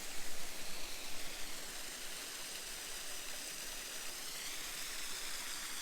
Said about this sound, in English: we got a nice little waterfall over here